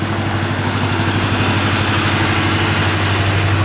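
A 1986 Chevrolet Blazer K5 idles with a steady, loud low rumble and an even pulsing beat, close up and with no voices.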